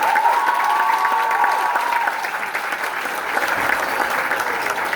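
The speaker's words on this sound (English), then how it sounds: "We want to give him a Category 5 round of applause right now." Steady applause from an audience at a high school leaving ceremony honouring the guest speaker, a dense even clatter of many hands holding at one level throughout, with a faint sustained tone early on.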